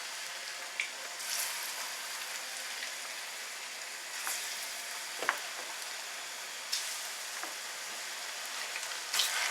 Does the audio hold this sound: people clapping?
no